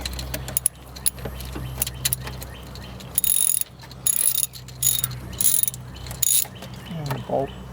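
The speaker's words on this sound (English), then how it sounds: "I'm taking the T50 Torx bit, and I am going to take off the bolt in the idler pulley counterclockwise" Up close, a T50 Torx bit turns out the idler pulley bolt on a 2001 Mercedes-Benz W210 E320 wagon, giving intermittent ratcheting, clicking bursts over a low steady mechanical hum.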